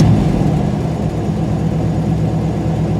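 A car engine idling too fast, a steady loud low rumble holding constant for the full stretch with no change in pitch, heard close up with no talk.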